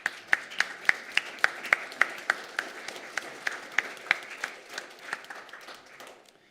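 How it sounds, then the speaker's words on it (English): Sunday church service congregation gives a round of applause, with one near pair of hands clapping in a steady rhythm over a softer wash of clapping that fades out at the end. "we'll give you a round of applause for your role"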